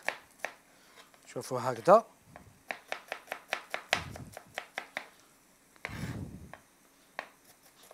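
A knife slicing half an onion thinly on a board, with rapid, crisp, evenly spaced chops close by, interrupted by brief spoken words.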